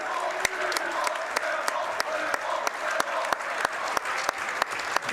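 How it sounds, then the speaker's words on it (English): Applause from a gym crowd at a high school boys basketball game, Eagan Wildcats against Farmington, as seniors leave the floor; a steady round of clapping from a moderately distant crowd, with sharp court squeaks or thumps cutting through at intervals. "Did a nice round of applause by the seniors coming off the floor"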